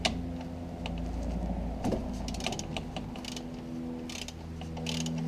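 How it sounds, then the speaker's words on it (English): Ratchet clicking while loosening the sump plug bolt on a Skoda Superb 3U 1.9 TDI, with close, repeated mechanical clicks and creaks in irregular bursts. "Once you get it loose, you can disconnect the ratchet and then keep turning it."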